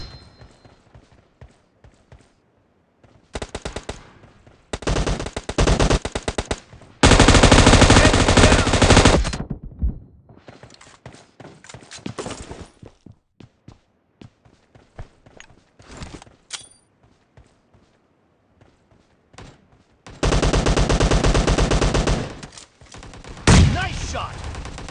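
Bursts of rapid automatic M249 machine-gun fire and shotgun blasts in a team deathmatch video game, loud sustained volleys separated by quieter gaps with footsteps and occasional game voice announcements.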